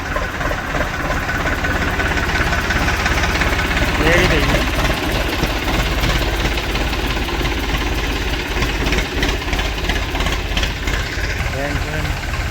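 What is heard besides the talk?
tractor engine running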